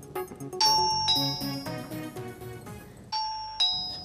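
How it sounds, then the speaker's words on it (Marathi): An electronic doorbell sounds its ding-dong chime again and again in quick succession. The bright tones ring out clearly and fade between presses in a quiet room. "बेल वाज"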